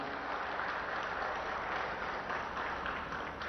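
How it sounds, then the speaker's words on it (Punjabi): A crowd applauds steadily at a distance, a soft, even wash of clapping that continues throughout, at a Lok Sabha election campaign rally. "ਜ਼ੋਰਦਾਰ ਤਾਲੀਆਂ ਦੇ ਵਿੱਚ"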